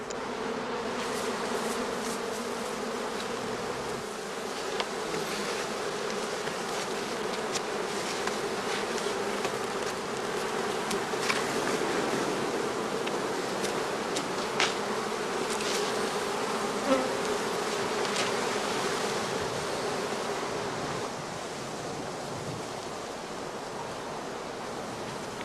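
Honey bees swarm and buzz around straw skep hives in an apiary during the summer heather blossom, a steady dense hum lasting throughout with no voices.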